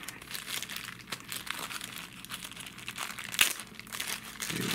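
Plastic packaging around an iPhone case crinkling and crackling as it is pulled open, a continuous close rustle with a sharper snap partway through.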